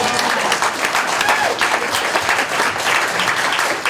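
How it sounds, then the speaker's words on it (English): An audience at a Brattleboro community event bursts into dense, sustained applause, with many hands clapping loudly and evenly throughout and a faint murmur of voices underneath. "Yeah, we can applaud for that."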